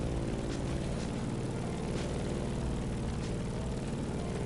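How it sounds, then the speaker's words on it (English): Grumman F8F Bearcat propeller fighter in The Crew Motorfest racing game, its piston engine a constant loud, dense drone with a low rumbling pulse and no talking. "In the cockpit of a stunning Grumman F8F Bearcat"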